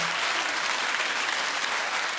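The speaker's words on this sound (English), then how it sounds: "keep the claps going" Sustained applause from a television talk show studio audience, dense and steady clapping filling the whole stretch without a break, loud and close.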